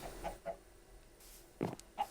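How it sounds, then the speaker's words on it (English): Chickens in the video game Minecraft give a few short, soft clucks scattered through a quiet moment, each brief and fairly faint. "I think someone's been here and put chickens under there"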